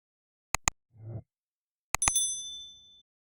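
Bright metallic notification dings struck in two quick pairs, the second pair ringing out with a lingering shimmer, separated by a soft low rustle; no voices.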